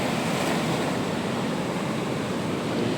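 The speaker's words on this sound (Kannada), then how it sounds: "ಸಮುದ್ರದ ಅಲೆಗಳು." Sea waves break on the shore at Dhanushkodi, a constant loud roar of surf mixed with wind buffeting the microphone, unbroken and with no voices.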